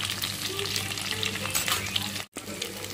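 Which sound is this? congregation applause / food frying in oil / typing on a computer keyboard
food frying in oil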